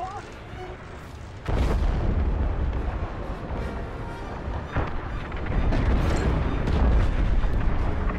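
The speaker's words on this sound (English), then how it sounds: "The frigate is about to explode." A frigate blowing up in Star Wars Squadrons, heard as a sudden loud rumbling blast that swells into a sustained roar with further booming surges, under talk.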